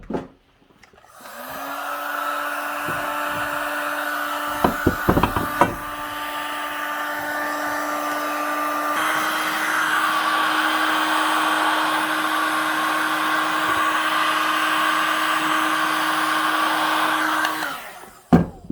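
A heat gun or similar hot-air blower whirs steadily while warming Husqvarna 268XP chainsaw crankcases to free the bearings, with a few sharp knocks midway and a pitch change partway through before it switches off; no speech.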